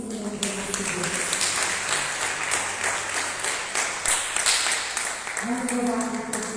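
A church congregation applauds through the whole stretch as a steady wash of clapping, with a preacher's voice speaking over it.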